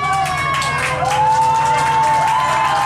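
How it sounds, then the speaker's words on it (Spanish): A crowd aboard a yacht near San Andrés Island claps and cheers for dancers, steady lively applause with shouts and a whistling tone over a low hum, loud and close throughout. "fuerte el aplauso para los muchachos, aplauso, aplauso, aplauso, aplauso"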